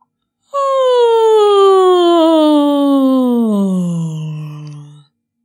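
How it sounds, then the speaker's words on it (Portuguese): A single yawning breath voiced on the vowel A as a vocal warm-down, heard alone: a clear sustained tone that starts high and glides steadily downward for about four and a half seconds before fading out. "Vamos inspirar e, em seguida, bocejar com o som das vogais."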